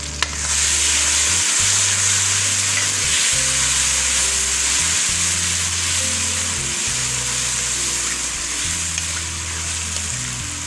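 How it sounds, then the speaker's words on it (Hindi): Garlic-ginger paste fries in a pan for a potato and capsicum curry, giving a loud, steady sizzle that hisses without pause, with low bumps of stirring underneath. "अब मैं लहसुन अदरक का पेस्ट शामिल कर रही हूँ।"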